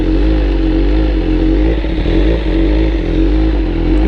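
Loud, close superbike engine idling and blipping, with a deep rumbling exhaust and mechanical clatter, a steady roar with small throttle swells and no speech; the bike is an R1M, H2, Fireblade RR-R or S1000RR.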